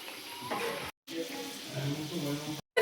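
Luchi fry in hot oil in a home kitchen with a steady close sizzle, broken by two brief cuts of silence, as faint background voices murmur.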